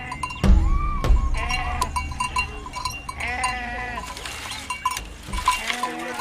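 Mixed goats, sheep and cattle of East African herders crowd into a pen at dusk, with overlapping bleats and calls, a few low thumps and knocks, and a busy farmyard bustle rising and falling throughout.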